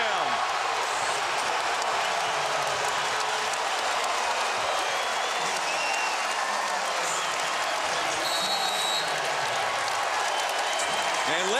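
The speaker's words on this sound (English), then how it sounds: "listen to this crowd on their feet in Aggie land" A basketball crowd in Aggieland at a Texas A&M game against Baylor roars on its feet after a dunk, with a broad, steady wash of cheering and a commentator talking over it.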